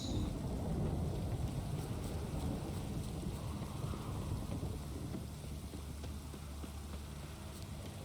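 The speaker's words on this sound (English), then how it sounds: "The storm, damn it." Steady rain with rolling thunder during a storm in the video game The Witcher 3: Wild Hunt, a dense low rumble over constant rainfall that slowly eases.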